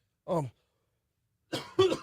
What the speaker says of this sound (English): It's so good, he's coughing.